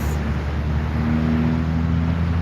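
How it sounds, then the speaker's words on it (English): Steady car traffic noise from a nearby roadway, a continuous low rumble with a faint tonal hum, carrying on evenly with no voices. "Sorry for the car noise."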